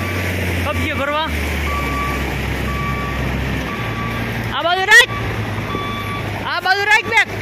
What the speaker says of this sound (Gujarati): અને અમારું બીજું ટ્રેક્ટર આવી રહ્યું છે કબજે ભરવા.